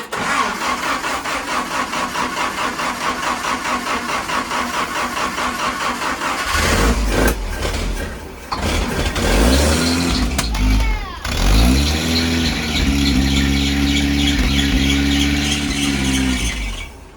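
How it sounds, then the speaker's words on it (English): A 1953 Willys CJ3b engine, primed with starting fluid, cranks in a steady rapid rhythm, catches and fires, then settles into a loud, close, rough idle with a revving surge and a high squeak; voices speak briefly. "so we got a good running engine"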